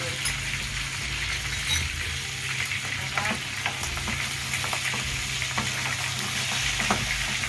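Hot oil sizzling and spattering steadily in a pan while Binisaya-style adobo cooks, a continuous loud crackle with scattered sharper pops and occasional stirring clinks, with no voices over it.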